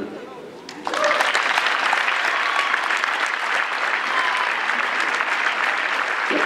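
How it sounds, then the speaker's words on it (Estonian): A crowd bursts into sustained, loud applause at the opening of the Estonian badminton championships, steady clapping filling the hall after a brief moment of quieter talk. "Ja las aplausid härra Jüri Tarto"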